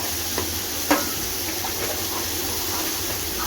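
Ginger garlic paste sautés with onion and tomato in a pan for a mutton gravy, a steady close sizzle and hiss with one sharp tap of a spoon near the start.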